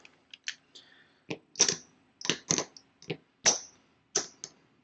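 A small deck of playing cards being shuffled by hand on a table, close and quiet, with short irregular clicks and riffling snaps separated by brief pauses.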